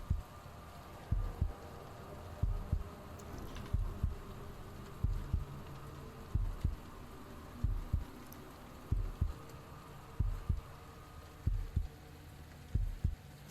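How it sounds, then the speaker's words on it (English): A steady human heartbeat throbs in the background, low muffled double thumps repeating about once a second under a faint hum, with no talking. "you guys should be able to hear my heartbeat in the background"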